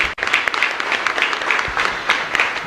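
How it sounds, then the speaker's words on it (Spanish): A church congregation applauds together at the close of Mass in a chapel of San Antonio de Padua, a steady, dense round of clapping filling the space close by. "un fuerte aplauso para todos ustedes"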